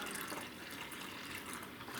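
Pomegranate juice pours in a soft, steady stream into a measuring cup, a faint, continuous liquid trickle with no voices over it.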